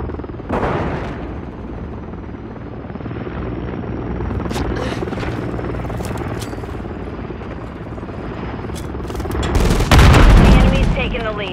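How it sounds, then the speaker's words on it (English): Enemy Overwatch helicopter in Call of Duty: Modern Warfare 3 hardcore team deathmatch, a steady rotor drone under bursts of gunfire and explosions, with a loud boom near the end and brief game voice callouts. "Enemy Overwatch helo inbound."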